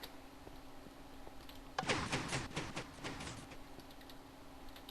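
Doors shutting in Minecraft with the Direwolf20 modpack, heard as a brief cluster of mechanical clacks and thuds that rises after a quiet stretch and then fades into a low hum.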